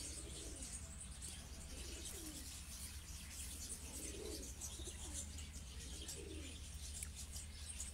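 Pigeons cooing in soft repeated phrases, fairly faint against steady background noise, with light chirps and a hint of wing flaps.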